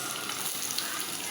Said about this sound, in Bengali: তো এদিকে আমি দিয়ে দিলাম পেঁয়াজ।